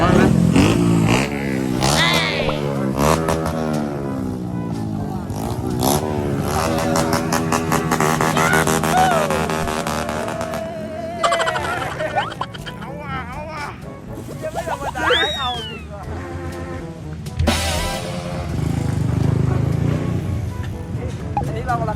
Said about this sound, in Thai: เราไปดู รถแข่งในสนามดีกว่า